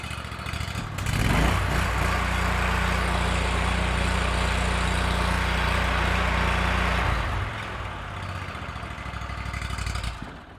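A Honda IGX800 engine with 1,900 hours, freshly fitted with a new high-pressure fuel pump, idles with a loud, even, close-up hum. It holds steady for several seconds before the tone shifts and eases.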